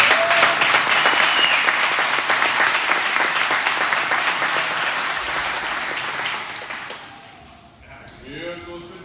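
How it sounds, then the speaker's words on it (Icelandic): Audience applause at a Mjölnir Open event, dense sustained clapping from a crowd that gradually thins and dies away, followed by a brief voice and faint tones. "Klappið fyrir"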